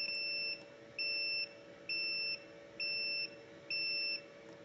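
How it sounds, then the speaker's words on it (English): Error alarm on a horizontal hatchery incubator sounding because the temperature has dropped below the 38-degree setpoint: five steady electronic beeps in an even rhythm, each about half a second long, loud and close over a faint background hum. "Over here it is showing error alarm"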